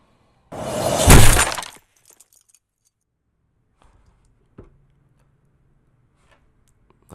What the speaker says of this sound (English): I don't think we actually need the glass impact sound